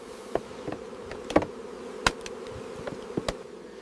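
Many honeybees hum in a steady, droning buzz at a hive on a Turkish bee farm, with a few sharp clicks and knocks scattered throughout.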